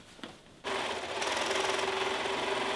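A sewing machine stitching a vintage blouse starts after a short pause and runs in a fast, steady mechanical rattle with a constant hum, loud and close, no speech.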